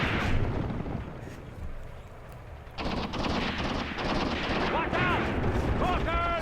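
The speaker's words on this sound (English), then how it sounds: "Still some machine gun fire." Machine gun fire and battlefield explosions in the World War II tank game Tank Warfare 1943 Tunisia, with dense bursts of gunfire and rumbling booms underneath, all at a steady loud level throughout.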